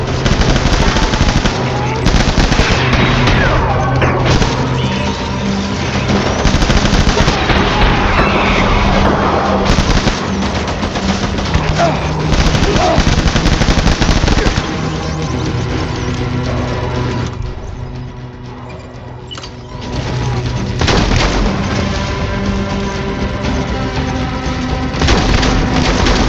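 Rapid bursts of gunfire from the Death Stranding video game ring out loud and dense over about 26 seconds, automatic fire and booms overlapping, with brief shouted voices.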